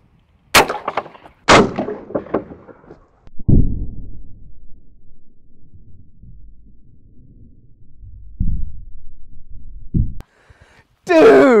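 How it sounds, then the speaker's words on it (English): Shotgun firing double-aught buckshot into ballistic gel at close range, two sharp loud blasts near the start followed by thuds and handling noises, with a brief voice at the end. "Let's see what double-aught buck does to it. Double-aught buck firing."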